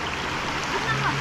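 Stream water in Africa used for washing clothes, a steady rushing babble with light splashes, fairly close, with a faint tone and some background noise.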